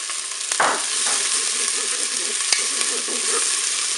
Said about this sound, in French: mon huile est chaude, je vais mettre mes morceaux d'oignon. On va les faire dorer.